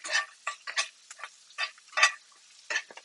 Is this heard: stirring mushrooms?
yes